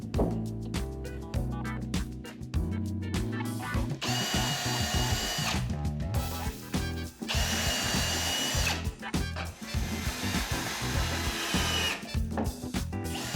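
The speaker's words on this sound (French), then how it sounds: "Percez ensuite les lattes avant de visser l'ensemble au meuble lui-même." Power drill boring holes through wooden slats for a custom machine cabinet, repeated loud bursts of whirring with brief pauses and rough grinding as the bit bites into the wood, no voices.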